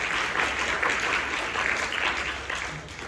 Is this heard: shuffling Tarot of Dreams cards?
no